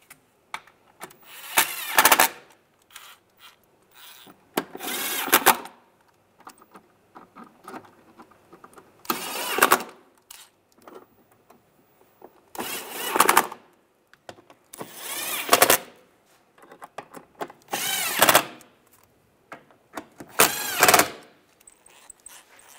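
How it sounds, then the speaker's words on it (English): Starter bolts on a 1998-2010 Volkswagen Beetle are tightened with a ratchet, giving repeated short bursts of quick clicking separated by quiet pauses, fairly faint and close. "And get the bolts started, or the screws. Now tighten those down."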